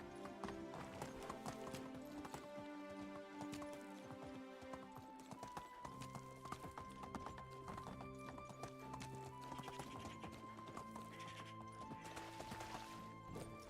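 Horse in the video game Medieval Dynasty galloping with steady, continuous hoofbeats and an occasional whinny, all over a layer of game music and ambient tones for the whole stretch.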